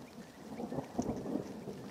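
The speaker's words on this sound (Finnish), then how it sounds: "Ja niikä täällä tuli vielä ukkonen lähellekin." Low thunder rumbles during a rainstorm in Toholampi, Finland, a faint, soft swelling roll over steady rain hiss, quiet and somewhat distant in this short moment.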